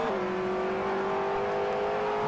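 A 3.6 litre V8 Rover SD1 Vitesse race car at the 1985 Lady Wigram Trophy touring car round holds a steady, loud engine note, its pitch dipping slightly then droning on evenly without talk.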